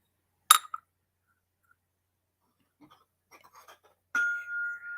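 A glass shot glass and a nut bowl clink together, one sharp ring at the start followed by a few faint taps and a longer ringing clink near the end, close and otherwise quiet.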